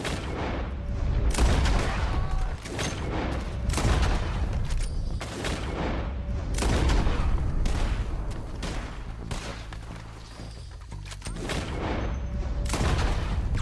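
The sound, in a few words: gunfire in Red Dead Redemption 2 video game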